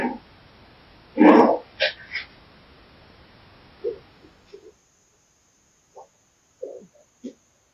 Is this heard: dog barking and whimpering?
yes